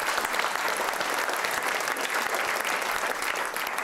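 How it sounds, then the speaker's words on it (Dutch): Large audience applauding steadily at a Dutch practorale lecture on media literacy, a dense, even wash of clapping that holds for the whole stretch without pause. "En ik wil alvast een heel groot applaus voor Paolo."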